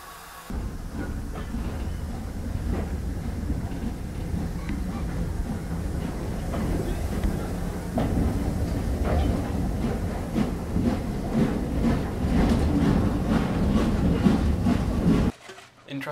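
An old heritage train rumbles along the East Lancashire Railway, a steady rolling roar with rhythmic clatter of wheels over rail joints, building slightly louder before cutting off abruptly near the end.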